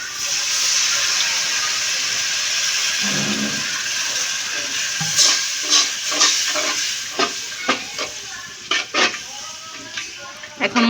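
Water poured onto ground coriander and chilli powder frying in a pan for a winter vegetable curry, a sustained loud hiss and sizzle with steam, then sharp scraping stirs of a spoon against the pan.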